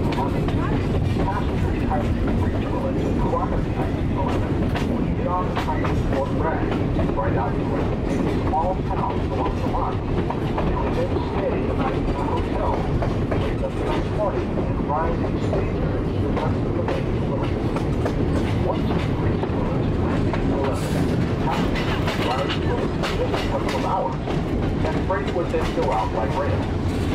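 Skunk Train passenger train running on rails near Fort Bragg, California, with a steady, loud rumble and rhythmic clickety-clack of wheels throughout, joined by faint voices.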